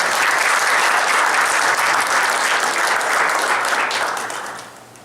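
A large audience at a public work session claps continuously, a dense and loud wash of applause that holds steady and then fades near the end.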